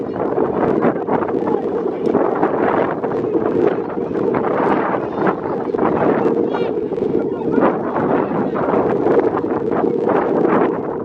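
Strong wind gusts at an outdoor semi-pro football game, blustery rumbling buffeting the microphone throughout while a commentator talks over it.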